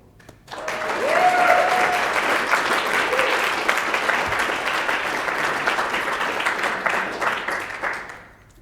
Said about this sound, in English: please, round of applause for Brian Davidson